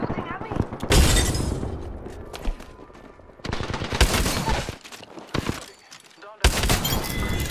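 Loud booming blasts and crackling gunfire from a video game shooter come in several heavy bursts, including a sharp explosion near the end, with voices talking between and over them.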